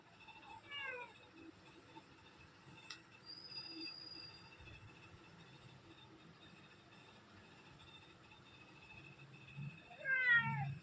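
A pregnant cat meows close by, one short call near the start and another at the end, over a low rumbling background with faint distant squeals.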